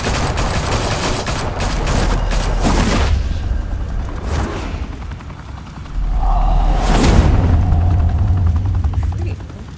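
Bursts of gunfire crackle in a Batman video game, loud and close, with rapid volleys and booms over a whirring, helicopter-like roar and some voices underneath.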